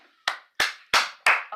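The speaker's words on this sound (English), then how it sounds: "Applause is coming in." Four sharp, separate hand claps ring out close and loud at an even, steady pace, each one dying away before the next, at a vice presidential oath of office in a 1974 inauguration.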